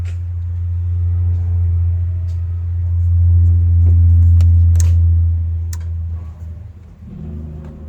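Toyota Supra race engine holding a loud, steady low rumble on a trans brake launch control test, swelling toward the middle and easing off near the end, with a few sharp clicks and ticks over it.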